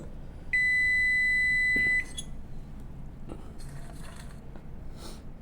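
A multimeter's continuity beep sounds while a transistor is tested during repair of a dead induction cooker: a single steady, close electronic tone lasting about a second and a half, followed by faint clicks of probes and handling.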